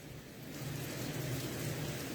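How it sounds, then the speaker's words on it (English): Steady rain falls outside during an evening in Benin Republic, a continuous broadband hiss with low rumbling underneath, fairly even and moderately loud, with no voices heard. "It's raining outside."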